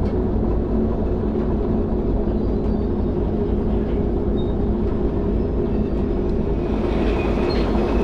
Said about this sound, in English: just let the locomotive drift a little bit as we reverse direction into this next switch